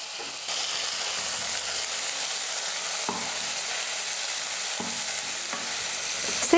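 Chopped tomatoes sauté in oil for a beans sambar, giving a steady broadband sizzle that runs throughout, with a few soft spoon-stirring scrapes near the middle and a slightly louder clatter at the very end, and no voices.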